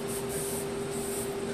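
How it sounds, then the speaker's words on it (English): A short hissing burst of WD-40 sprayed from an aerosol can onto a cylinder bore during honing, a steady close spray lasting about a second and a half over a faint background hum. "A little bit of WD-40."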